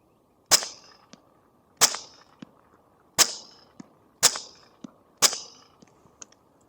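Five sharp gunshots firing LAX ammunition crack out at regular intervals about 1.4 seconds apart, each followed by a short ringing decay, with faint small clicks between shots and no talking.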